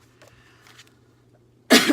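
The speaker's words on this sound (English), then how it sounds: "I cannot stop coughing today" Faint room noise and soft clicks, then one sharp, loud cough bursts in at the end.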